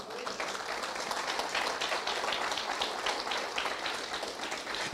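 Congregation applauding during a church service: steady, dense clapping from many hands continues evenly throughout, moderately loud and unaccompanied by talk.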